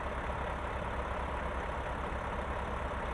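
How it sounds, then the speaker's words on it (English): A truck engine idles in American Truck Simulator, a steady low rumble with an even mechanical drone, close and constant throughout with no talk. "start the engine"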